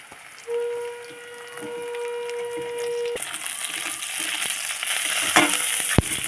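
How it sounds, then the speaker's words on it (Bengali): Onions and slit green chillies fry in a pan with a steady broadband sizzle that swells louder after a few seconds, broken by short stirring scrapes and a brief high whistle-like tone early on. "পেঁয়াজটা ভালো করে ভেজে নেব এবারে দিয়ে দেবো কাঁচা লঙ্কা চেরা"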